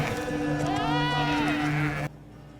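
A goat gives one long, wavering bleat close by, lasting about two seconds before cutting off abruptly.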